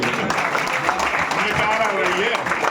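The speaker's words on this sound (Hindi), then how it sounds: "उसके सम्मान में जोरदार तालियां बजाइए।" An audience at a Hindi poetry recital in Jhansi applauds the event's compère, a close, continuous patter of clapping with some voices mixed in underneath.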